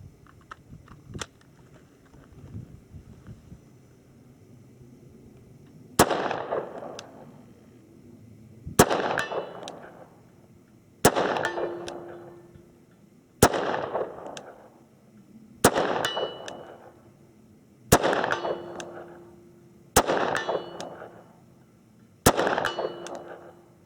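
A Sig Sauer SP2009 pistol fires eight sharp shots at a steel target 77 yards away, spaced about two to three seconds apart. Each bang is followed by a faint ringing ping from the steel, with no talk.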